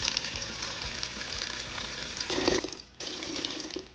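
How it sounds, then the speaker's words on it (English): Tap water pouring steadily into a stock pot of grapes, a continuous splashing rush that deepens briefly near the end, then cuts off for a moment before flowing again. "I'm just putting them in a stock pot, and then I'm going to fill it with water just enough so that it covers the grapes"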